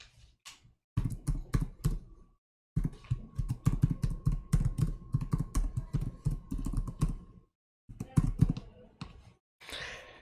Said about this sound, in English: I will type a project name there